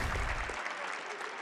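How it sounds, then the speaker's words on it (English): Audience clapping at a Hearthstone esports world championship match, a dense burst of applause from a crowd that stays steady and fairly loud through the short stretch. "Please give a round of applause."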